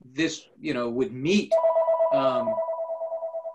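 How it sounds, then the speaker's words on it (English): A phone ringtone cuts into a Portola Valley committee meeting: a steady, pulsing electronic tone that starts partway through and keeps ringing, overlapping a man's speech at first and then sounding alone. "excuse me, that's my phone."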